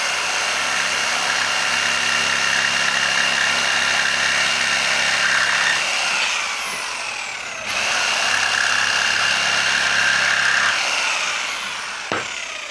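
A power saw fitted with a Bosch Basics blade cuts in two loud passes of high whining buzz, each ending as the motor winds down, with a short gap between and a sharp click at the end.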